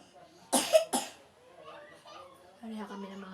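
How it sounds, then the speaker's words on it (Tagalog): Two sharp coughs come close together from a woman who is sick with a cold, followed by quieter voices and talk in a room. "Pareha kami ng mga anak ko na may mga ubo."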